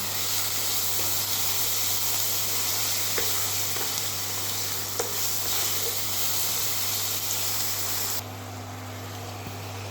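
Water hits a hot pan holding ginger and garlic, setting off a loud, steady sizzle and hiss that runs nearly the whole time before dropping slightly near the end.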